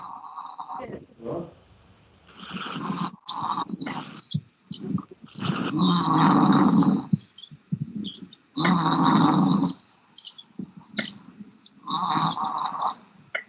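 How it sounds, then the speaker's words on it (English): A pig near Witzenhausen on a sunny day grunts in repeated loud, rough bursts of a second or two, separated by short quiet gaps. "Can you hear the pig?"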